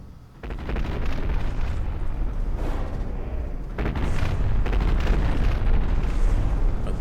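Battleships in a Big Iron battleship tournament fire heavy cannons in a video game, producing loud, rumbling booms that start with a sharp burst and are followed by a second surge of dense explosions, with no talk.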